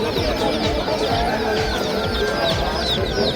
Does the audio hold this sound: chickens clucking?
yes